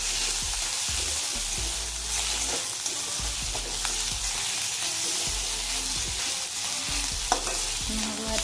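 Onions fry with ginger-garlic paste and green chilli in hot oil, giving a constant close sizzle broken by repeated scraping stirs of a utensil against the pan in an Assamese kitchen.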